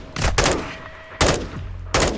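Call of Duty gunfire crackles in loud, close bursts, two or three short volleys of rapid shots separated by brief gaps.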